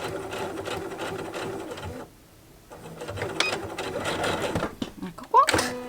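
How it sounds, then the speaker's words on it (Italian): Domestic sewing machine stitching fabric with a few backstitches, close rattling whir in stretches broken by a short quiet pause, with someone talking in Italian alongside. "cucire a macchina questa parte qui e basta, non devo fare altro"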